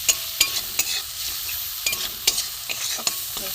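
Spices being fried in a pan over low gas heat, a soft steady sizzle broken by sharp scraping clicks of stirring at an uneven rhythm, close and alone without talk.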